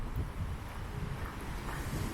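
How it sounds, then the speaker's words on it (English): Wind gusts across an open hilltop park at dusk ahead of a rainstorm, buffeting the microphone with a loud, continuous rumbling roar and no clear pauses. "it's getting dark and windy on me."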